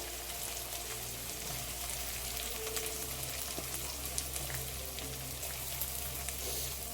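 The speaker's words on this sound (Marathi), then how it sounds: "छान अशी खमंग फोडणी बसली आहे बघा तुम्ही." Whole spices tempering in hot oil give a faint, continuous sizzle, quiet and steady without speech.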